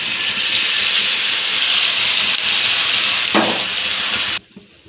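Ground spice paste sizzles steadily in hot oil with cumin, a couple of dried red chillies and urad dal, a loud continuous frying hiss with a brief stirring scrape near the end before it cuts off abruptly.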